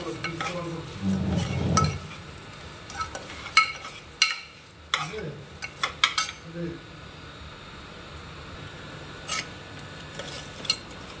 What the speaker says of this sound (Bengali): ডালিয়াটা দিয়ে দিলাম, এবারে ভেজে নেব